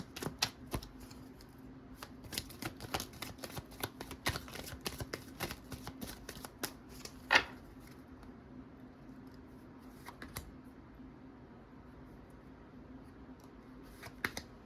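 Tarot cards are shuffled quietly and close by, in soft bursts of quick clicking riffles followed by a few scattered taps, over a faint background hum.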